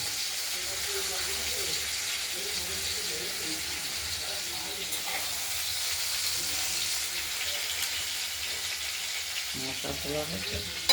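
Tomatoes fry down in a pan for a vegetarian potato dish with garam masala, a constant soft sizzle running beneath intermittent talking, ending with a small click.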